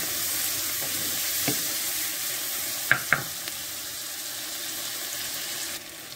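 Tomatoes and green chillies fry in a pan for a homemade kadhi, giving a steady soft sizzle with a few sharp utensil taps as they are stirred, no voices.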